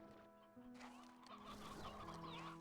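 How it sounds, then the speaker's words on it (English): Chickens cluck in the video game Slime Rancher 2, a run of clear, fairly near clucks over sustained tonal game music, with no talking. "See? All the chickens are back."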